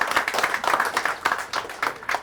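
Applause from a group of supporters at a Persebaya football club fan meeting in Taipei, with uneven clapping in loose bursts, fairly close and moderately loud.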